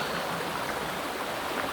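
Water poured for a guest, heard as a steady, close, broadband rush of flowing liquid throughout, with no talk.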